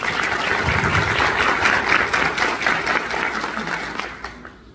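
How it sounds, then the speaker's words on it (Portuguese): A full room of people applauds at the opening of a Setembro Amarelo suicide-prevention event, a dense, steady wash of clapping that holds strong before tapering off near the end, with no voices over it. "Recebam-no com uma salva de palmas."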